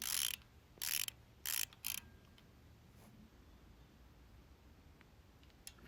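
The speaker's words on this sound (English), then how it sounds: "doing it up by finger tight at first and then tightening with my socket" A socket ratchet tightening the swinging arm spindle nut on a Kawasaki S1 550 motorcycle: four short bursts of close clicking in the first two seconds, then a quiet near-silent workshop.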